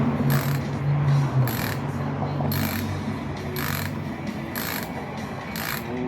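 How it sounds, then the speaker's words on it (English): A ratchet tool clicks in quick repeated bursts, about six close and fairly loud strokes, while the wheels come off a skateboard, with a low background hum underneath. "I'm gonna take all these wheels off first."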